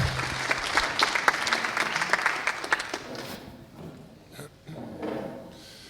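An audience at a hackathon presentation session bursts into loud, crisp clapping that thins out and dies away after about three seconds, leaving faint room murmur and scattered quiet talk.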